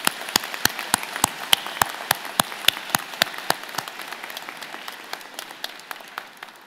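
Sharp, well-separated claps from a small scattered group at a spring engineering convocation, honouring graduates' friends and family. The hands strike in a quick, uneven patter that thins out and fades to near silence.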